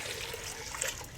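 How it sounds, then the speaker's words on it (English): Faint, brief trickle of running water while a pot is rinsed out in a kitchen, with a few light splashes and no voices. "to rinse out the pot"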